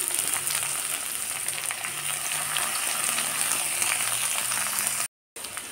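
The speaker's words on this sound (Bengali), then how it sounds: "এর মধ্যে আমি পেঁয়াজটা দিয়ে দিলাম।" Chopped onions hit potatoes already frying in oil for a Bengali ghugni, giving a loud, steady, close sizzle that runs unbroken and then cuts out briefly near the end.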